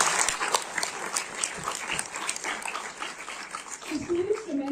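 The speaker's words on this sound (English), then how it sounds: "Can we again have a huge round of applause?" An audience applauds panelists at a legal-career event, moderate clapping with a scattered texture heard under nearby talking, and a voice rising toward the end.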